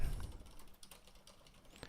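Computer keyboard typing, a faint scatter of light clicks over a quiet background.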